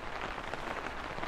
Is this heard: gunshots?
no